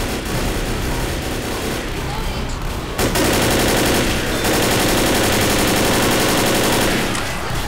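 Gunfire in the zombie shooter Left 4 Dead, fought on a rooftop against a horde: dense, rapid, continuous shots, loud and close, swelling sharply near the three-second mark, with voices talking over it.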